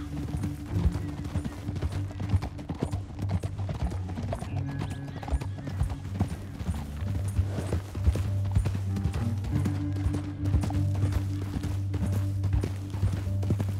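Horse hooves clip-clopping in the video game Red Dead Redemption 2, a continuous close rhythm of hoofbeats over a low rumbling backdrop for the whole stretch, with a possible faint whinny.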